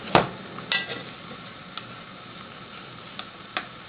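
Easy Wipe additive being mixed into printing ink, heard as a few sharp scraping taps and clicks spaced irregularly over a quiet background, close and moderately loud.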